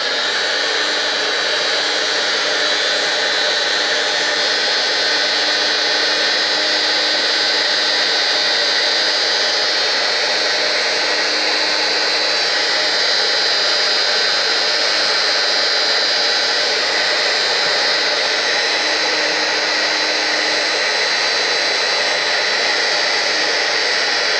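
An air dryer blows steadily and loudly over mixed media artwork, a continuous close whooshing roar that holds without a break and has no talking over it.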